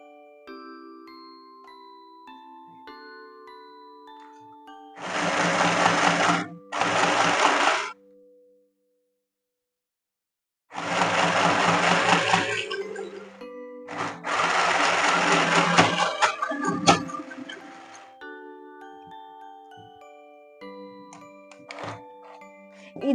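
A mini sewing machine bought from Flipkart runs in several bursts: two short whirring runs, a pause, then two longer stretches of steady motor buzz with needle clatter, loud and close, with faint tones and no talk between.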